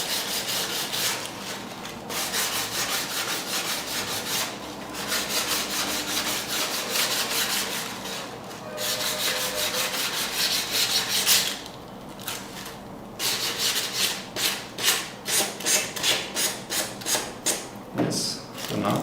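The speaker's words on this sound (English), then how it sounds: "When you rub sandpaper, the paper will get sanded away and you can see the wood along the corner." Sandpaper rubs against tissue paper covering the corner of a piece of wood in long, steady scraping strokes, close and continuous, turning into quicker rhythmic back-and-forth passes near the end.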